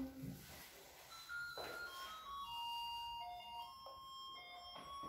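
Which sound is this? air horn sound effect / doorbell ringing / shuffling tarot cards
doorbell ringing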